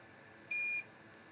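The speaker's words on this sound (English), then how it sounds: "Beep." A single steady electronic beep from soldering equipment during a tip change, a clear pure tone lasting about a third of a second over a quiet hiss.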